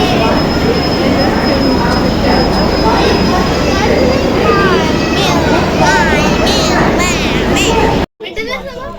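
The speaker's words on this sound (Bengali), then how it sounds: "চলে এসেছি এখন আমাদের দার্জিলিং মেল।" The Darjeeling Mail rolls loudly into a station platform, its wheels squealing and whining over a heavy rumble of carriages, with voices of people nearby mixed in, before an abrupt cut.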